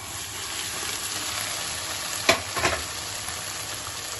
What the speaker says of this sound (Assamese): এতিয়া গাজ টেঙাখিনি ভাজি হৈ গৈছে, মই ইয়াত এতিয়া বইল কৰি ৰখা দালি আৰু কচু ইয়াতে বাকি দিম